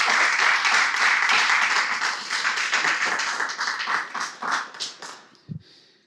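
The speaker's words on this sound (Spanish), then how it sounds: "¿Cuántos le regalan palmas al Señor en esta noche" A church congregation claps together in a sustained burst of applause that gradually thins into scattered claps and a final tap, heard fairly close with no speech over it.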